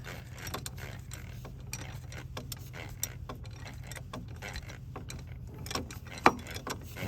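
Irregular metallic clicks from a Craftsman ratchet wrench working a banjo bolt on a manifold fitting, close and fairly quiet over a steady low hum, with one sharper snap near the end.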